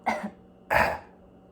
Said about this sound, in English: Now with your mouth open again, I need you to cough.